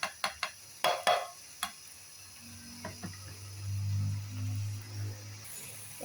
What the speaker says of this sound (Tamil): மோரில் கடலை போட்டு நல்லா கலக்கி வச்சுக்கிடுவோம்